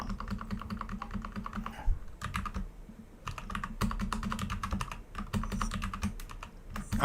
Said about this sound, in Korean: 이 지금 키보드가 조금 이상하네요